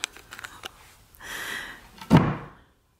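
A few light wooden taps and rattles, then a short scraping slide, ending with one solid thump of a freshly spray-painted hutch cabinet door being pushed shut, though it does not fully close.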